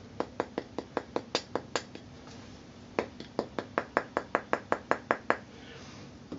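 Sharp, crisp taps in quick series on a Sennheiser headphone driver part, close up, two bursts of steady rhythmic tapping separated by a short pause.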